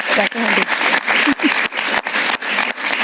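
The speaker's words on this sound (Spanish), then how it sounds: "Un gran aplauso para ella." Studio audience applause on a Spanish-language talk show, bright steady clapping with brief pauses and a voice speaking over it at times.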